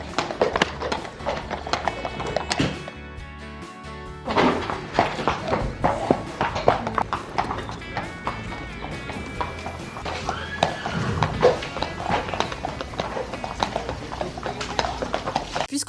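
A horse walks on a sand arena under a rider, its hooves giving a steady, close clip-clop rhythm with soft thuds and occasional stamps.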